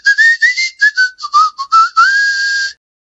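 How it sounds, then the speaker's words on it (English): A person whistles a cheerful, bouncy tune alone and up close, in a quick run of short notes ending in one long held note. "Ulterion walked down the corridor whistling a happy tune."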